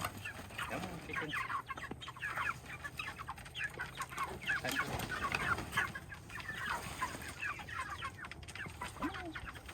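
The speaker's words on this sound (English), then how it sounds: "Come on, chicken." A flock of chickens being herded into a chicken tractor during morning chores, with continuous overlapping clucks and short squawks at moderate distance and a soft low rumble underneath.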